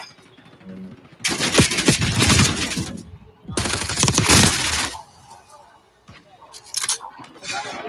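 Bursts of rapid automatic gunfire from a shooter video game come in two long loud volleys with a few scattered shots after, while players talk over the action.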